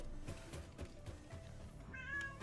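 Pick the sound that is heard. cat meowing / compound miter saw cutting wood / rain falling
cat meowing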